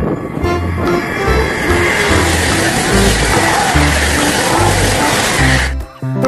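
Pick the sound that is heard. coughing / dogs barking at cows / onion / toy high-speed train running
toy high-speed train running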